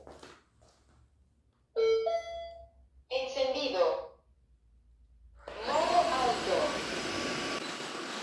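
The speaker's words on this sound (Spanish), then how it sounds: "lo bueno es que tenemos nuestra aspiradora," A Tineco Floor ONE S7 PRO cordless wet-dry vacuum cleaner switches on and runs across a floor with a steady broadband whir for the last few seconds, preceded by brief beeps and chimes from the machine.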